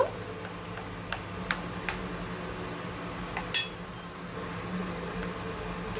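A spoon stirs malpua batter thinned with milk in a bowl: a few quiet, scattered clinks against the bowl over a low, soft background.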